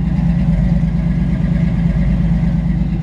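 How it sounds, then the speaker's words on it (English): A 1950 Ford F-1 pickup with its original flathead V8 and dual exhaust running straight back through Flowmaster mufflers idles loud and close, a steady deep burble throughout. "Dual exhaust all the way straight back from the pipes with Flow Masters. Got a really nice sound. This is the original flathead V8."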